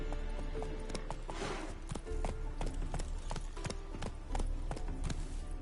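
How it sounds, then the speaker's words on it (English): Horse hooves clip-clop steadily in The Witcher 3, a quick regular trot on hard ground, moderately loud and close, with no talk over it. "Not so fast, Roach."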